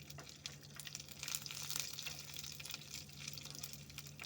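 Mustard seeds, fenugreek, cumin and curry leaves tempering in hot refined oil, a faint, steady crackling sizzle with small pops, heard alone with no talk.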